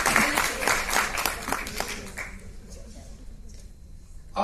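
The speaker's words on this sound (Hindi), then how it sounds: "आइए सब मिलकर इनके लिए एक बार जोर से ताली बजाएं." An audience bursts into loud clapping for a speaker at a certificate ceremony, a dense applause that gradually thins out and fades over a few seconds.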